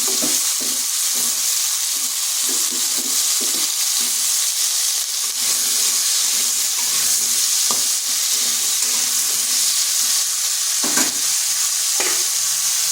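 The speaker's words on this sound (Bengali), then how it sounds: "ওই কড়াইতে 2 চামচ তেল দিচ্ছি। দিয়ে দিচ্ছি 2টো মিডিয়াম সাইজের আলু।" Two medium potatoes coated in salt and turmeric fry in two spoons of oil in a wok, a steady close sizzle with intermittent stirring scrapes and soft clatter throughout.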